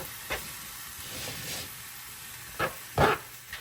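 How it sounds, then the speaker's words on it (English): Onions and peppers frying with taco beef in a pan give a faint, low sizzle, broken by a few short scraping bursts as a spoon stirs the mix, heard close with no talking. "So now we're going to saute the vegetables into the meat until the onions become clear"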